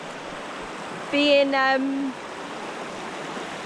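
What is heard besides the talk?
fresh mountain stream water running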